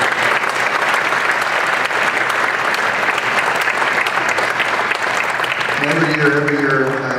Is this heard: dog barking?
no